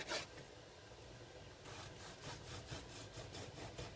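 A knife slices through meat for a Reuben sandwich in faint, steady back-and-forth sawing strokes, close up and without talk.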